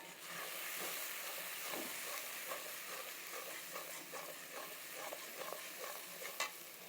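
Turmeric and chili powder being sautéed in a pan for a singi fish and taro curry, a close steady sizzle with repeated scraping stirs, no voices.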